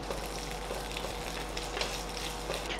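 Cumin, a few dried red chillies and curry leaves tempering in hot oil for mango dal, a dense, even close-up sizzle with fine crackling throughout.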